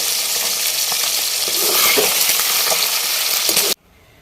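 Beef frying in hot oil for a Kerala-style beef pickle, a steady dense sizzle with faint stirring, loud and close throughout before cutting off abruptly near the end.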